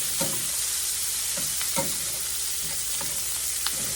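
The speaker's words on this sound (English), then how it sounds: "And now our onions are cooking. Got that grease going in there." Onions frying in leftover pork chop grease in a skillet, a constant close sizzle broken by regular scraping stirs of a utensil against the pan.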